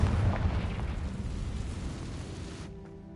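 A Confringo fire spell explodes in Hogwarts Legacy, opening with a loud, deep boom that rolls away into a long rumbling decay before cutting to near silence, with no voices.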